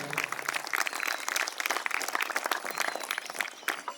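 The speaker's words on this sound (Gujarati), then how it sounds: "સૌ અધિકારીઓ છે એમનું આપણે તાળીઓના નાદથી સ્વાગત કરીશું" An outdoor audience at a Yoga Day event claps steadily in welcome for arriving officials, a continuous moderate applause lasting the full few seconds with no voices on top.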